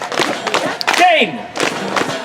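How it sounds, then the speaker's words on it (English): An audience slaps their laps and claps their hands in a quick rhythmic pattern, close and lively, with a spoken voice over the beats. "hit your lap 2 times, clap your hands 1 time, do it again, again"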